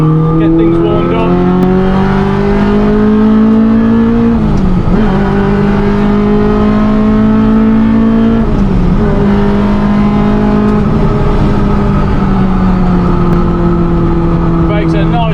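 A K20-engined Renault Clio 197 Mk3 making about 245 bhp accelerates hard around the Cadwell Park circuit. The loud, rising engine howl is heard from inside the car, with two brief dips at gear changes before the revs climb again.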